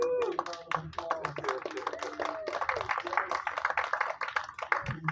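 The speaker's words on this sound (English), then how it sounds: "Give him a big round of applause." Audience giving a round of applause at a live event, dense overlapping hand claps filling the room, with voices talking over the clapping.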